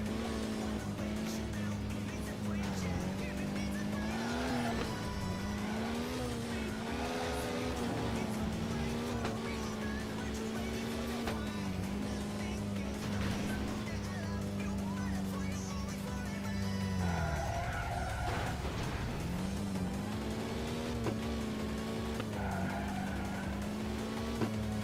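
Racing video game audio: a car engine drones continuously with rising and falling pitch as it accelerates and shifts, tires squealing and skidding at times, loud throughout with a steady mix and no clear talk.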